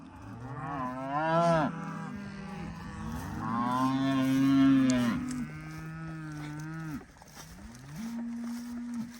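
Several long, loud cow moos follow one another, deep and drawn out with rising and falling pitch, close by and with no talking.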